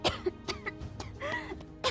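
A character in the animated Minecraft series Mermaid Tales coughs in a few short, sharp bursts, quite loud and close, with a hint of throat clearing.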